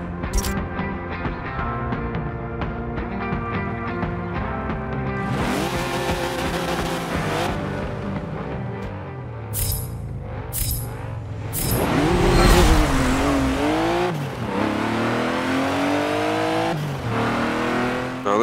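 A 1995 Porsche 911 GT2 in the Forza Motorsport 7 racing game, its engine roaring and revving loudly through gear changes with sweeping pitch rises and a few brief tire squeals, no talking.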